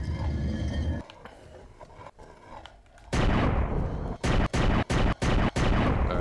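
Gunfire in the video game Down Below, a rapid run of loud, sharp booming shots after a stretch of quieter game sound, with several evenly spaced blasts in the last seconds.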